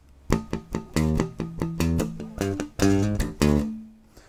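An electric bass guitar plays one bar of a plectrum lick, a quick run of bright, picked notes with sharp attacks and one longer held note near the end, heard alone.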